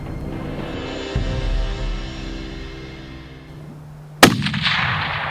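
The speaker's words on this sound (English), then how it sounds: "No, shoot him right there." Rifle shot at a bear during a long-range canyon hunt: one sharp, loud report near the end, with a brief rolling echo trailing off over steady outdoor background noise.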